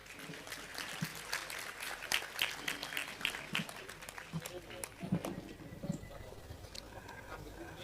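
A patter of applause from a small group, steady clapping over several seconds with people talking over it.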